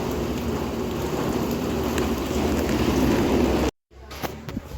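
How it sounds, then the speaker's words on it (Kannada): Heavy rain pours down in a steady, loud roar, with a brief break of silence near the end before the downpour sound returns more faintly. "ಮಳೆ ಮಾತ್ರ ಜೋರಾಗಿ ಬರ್ತಿದೆ ಆಗ್ಲಿಂದ"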